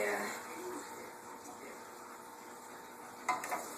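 Meat sears in a pan with a soft, continuous sizzle at a fairly low level. A brief utensil clatter comes near the end.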